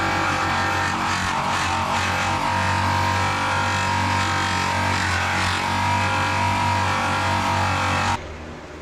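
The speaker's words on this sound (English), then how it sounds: "Take your buffing wheel, prime it with the compound, and go through each of the 3 polishing steps" Buffing wheel primed with compound polishing an aluminum car wheel, a loud, continuous high whirring drone that runs steadily, then cuts off abruptly near the end.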